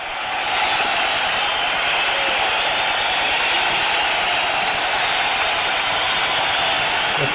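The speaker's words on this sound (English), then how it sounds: "The crowd's going crazy." A large audience cheers and roars steadily at a live 1978 concert, a dense, sustained wash of crowd noise that holds loud and even throughout without breaks.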